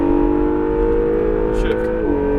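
Acura NSX engine pulling hard on throttle at Exotics Racing Las Vegas, a steady loud droning whine whose pitch dips near the end, as at a shift, heard from inside the car.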